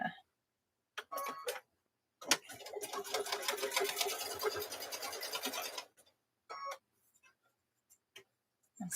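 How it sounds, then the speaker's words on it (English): A sewing machine stitches a zipper onto a lanyard, close up: a few short stitching bursts, then one steady run of about three and a half seconds, followed by brief clicks and handling sounds, with no talking. "I'm sewing that zipper together here."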